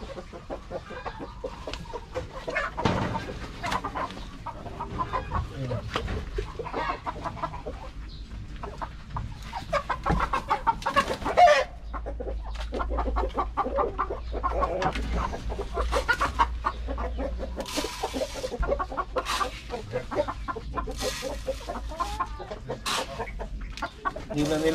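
Backyard chickens cluck repeatedly around a feeder made from PVC pipe, steady overlapping clucks near and far through the whole stretch, with a low rumble underneath.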